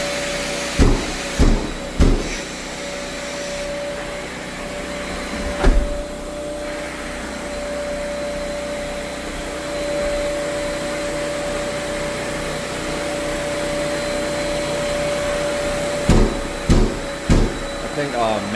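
A Bosch drywall sander with a brand new motor runs continuously with a steady high whine and whirring hum, punctuated by several sharp knocks and thumps near the start and end.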